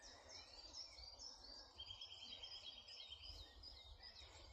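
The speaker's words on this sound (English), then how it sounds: "Listen to the birds." Birds sing outdoors in a quiet natural setting, several chirping and warbling calls overlapping continuously, with one sustained trilled phrase in the middle, faint against a low background rumble, no voices.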